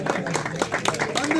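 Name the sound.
audience applause at a prize ceremony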